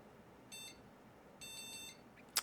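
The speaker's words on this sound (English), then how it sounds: "You heard those 3 beeps?" Electronic POST beeps from an RTX 3090 graphics card that hangs during startup: a short high beep, then a longer beep broken into quick pulses, faint and close in an otherwise quiet room.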